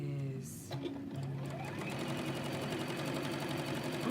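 A sewing machine stitches fabric in a steady, continuous mechanical run throughout, with faint talk briefly underneath at the start.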